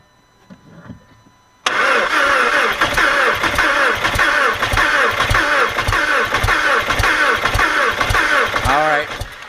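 A 2.0 FSI engine in an Audi A4 Quattro cranks with a rhythmic, laboured churn that starts abruptly after a short bit of talk and holds loud and close for several seconds before cutting off.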